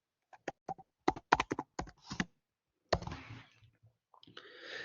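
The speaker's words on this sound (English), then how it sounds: "So I'll type it in the chat." Close keys clack on a computer keyboard as someone types a message into a chat, first as quick separate taps, then as a burst of clicks after a short pause, with some faint rustling and no talking.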